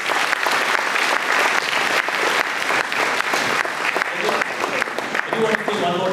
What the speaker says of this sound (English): let's give a big round of applause for Sam